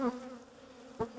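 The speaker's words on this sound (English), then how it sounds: "Sting proof, apart from the bees that have managed to get inside my cuffs." Honey bees buzz steadily and close around a beekeeper at night, a faint, droning hum that swells briefly as an insect passes nearby.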